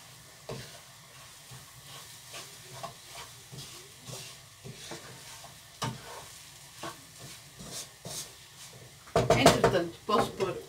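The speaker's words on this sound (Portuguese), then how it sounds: "Agora acrescenta-se a farinha de mandioca. Não se deixa cozer muito." Cassava flour is stirred and toasted in a pan for bacon-and-egg farofa, with a quiet sizzle and scraping strokes. It grows louder and busier near the end, when a voice briefly speaks.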